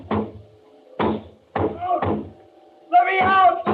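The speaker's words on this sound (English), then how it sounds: "I went to the door, banged on it." A radio-drama sound effect of someone banging on a door: four heavy, separate thuds about half a second to a second apart, close and loud, followed by a voice.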